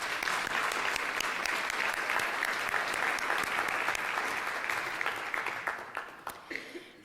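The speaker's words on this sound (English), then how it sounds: "So I think that deserves a round of applause right there." An audience at a municipal all-candidates debate in Innisfil breaks into steady, sustained applause that fades and thins out toward the end, leaving a few scattered claps.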